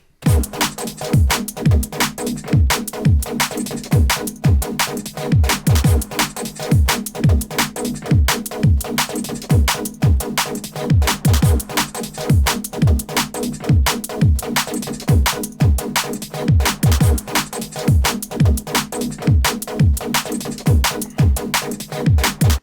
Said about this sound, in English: So it's juicy Neuro stabs,